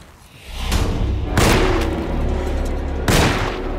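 Gunshots fired at an enemy in Alone in the Dark on PS5: three loud, sharp booming shots spaced apart, each with a short ringing tail, and no talking.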